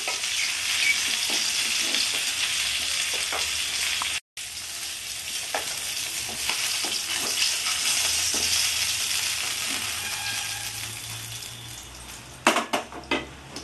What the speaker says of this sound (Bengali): আর 1 পিস আমি এবার ভেজে নেব